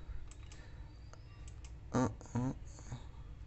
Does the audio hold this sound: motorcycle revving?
no